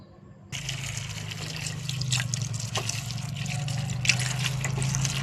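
Tap water runs steadily while coriander leaves are rinsed in a kitchen, a continuous close trickle and splash with brief clatters, starting after a short quiet moment.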